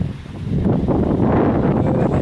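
Strong wind at a beach campsite buffets the microphone in loud, continuous rumbling gusts, with low roaring noise throughout and no voices.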